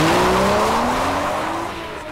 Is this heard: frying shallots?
no